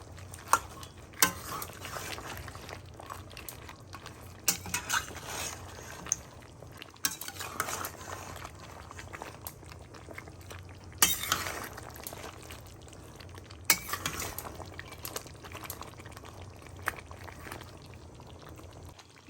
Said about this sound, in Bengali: মিশিয়ে দেবো এবার ঝোলের সাথে খুব ভালোভাবে